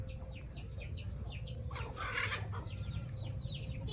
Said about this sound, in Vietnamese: Mình nuôi thì chủ yếu là nuôi gà ta thôi mọi người nhé.